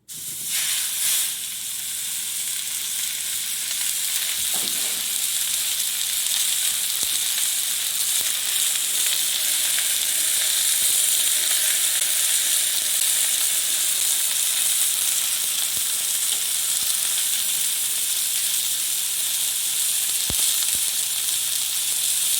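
Ground beef sizzles steadily in a frying pan as filling for Russian pirozhki buns, a continuous close, bright hiss with occasional faint pops and no voices.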